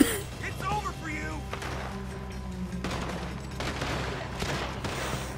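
A chaotic Red Dead Redemption 2 shootout, with rapid overlapping gunshots and heavy booms cracking close by over a low rumble, while voices shout beneath the fire.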